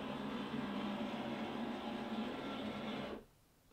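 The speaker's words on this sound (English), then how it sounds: "At the printer." An office printer runs with a steady mechanical whir and hum, fairly close and even, then cuts off abruptly near the end, leaving quiet room tone.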